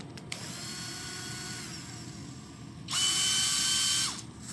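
A 20V brushless cordless polisher/sander spins up to high speed, its steady whine jumping louder and higher for about a second before winding down, following a quieter low-speed hum close by.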